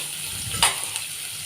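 Onions frying in a pan, a soft, steady close sizzle with one brief sharper crackle, no talking.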